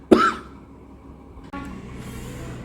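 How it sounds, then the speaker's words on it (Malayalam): A single sharp cough from a woman indoors bursts out right at the start, loud and close, followed by quiet room noise and a soft background hiss. "അപ്പോഴേക്ക് ഒരു ചുമ വന്നതാട്ടോ"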